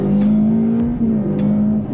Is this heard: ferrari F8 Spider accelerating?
yes